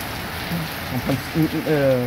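Steady heavy rain from a violent thunderstorm hissing across the full range, with a person speaking over it partway through.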